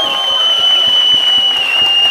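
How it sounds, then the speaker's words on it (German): A studio audience at the Robertihof applauds three young Tyrolean musicians during a TV folk-music recording, a dense, steady wash of clapping that holds throughout the short stretch. "Unser Publikum hier im Robertihof hat jetzt nochmal einen kräftigen Applaus für diese 3 jungen Herren aus Tirol."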